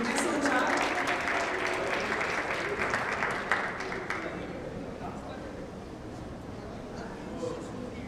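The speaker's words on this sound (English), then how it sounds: "let's give our competitors another round of applause" An audience at a school Poetry Out Loud competition claps for the competitors, the applause loud at first and then fading to scattered clapping and room murmur.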